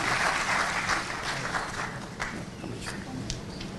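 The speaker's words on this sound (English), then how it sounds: "with a huge round of applause" Audience applause at a university convocation ceremony welcoming the Vice President of India, loud at first then thinning into scattered claps with some crowd noise.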